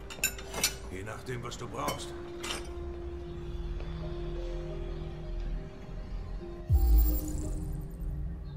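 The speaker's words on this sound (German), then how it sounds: "Und sammeln das Geschirr ein." Dishes and cutlery clink as they are gathered up in a kitchen in the game Detroit: Become Human, a few sharp rattles early on over a steady electrical hum, followed later by a heavier thud.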